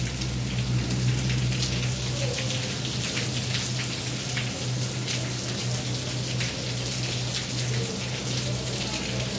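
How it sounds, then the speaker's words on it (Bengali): Heavy rain pours down steadily in a dense, continuous hiss of drops hitting surfaces, loud and unbroken, with a low constant hum underneath. "প্রচুর বৃষ্টি শুরু হয়ে গেছে,"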